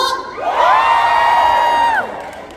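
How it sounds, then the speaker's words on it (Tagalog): Crowd at a Filipino community fiesta in South Korea lets out a loud, sustained cheer and whoop lasting about two seconds, one high voice rising and holding above the mass of shouting. "Palakpakan na may kasamang hiyawan."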